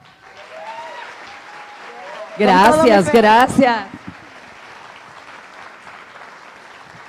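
An audience at a Fuckup Nights anniversary event applauds to welcome a speaker onstage. A short burst of clapping rises over a voice, which continues speaking before and after the applause.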